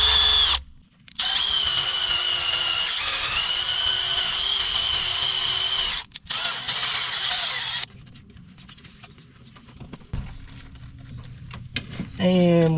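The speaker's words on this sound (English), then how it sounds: "You'll kind of hear the drill let out." A power drill cuts out a damaged thread on a 3.6 Pentastar engine for an NS300L thread repair kit, whining steadily at close range with two brief stops before it eases off and slows down near the end.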